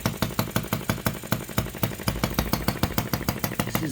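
A miniature OKMO 1110 working replica of a 1950s Japanese engine runs steadily, its rapid, even firing pulses close and loud with a slightly uneven, struggling edge as the mixture is leaned.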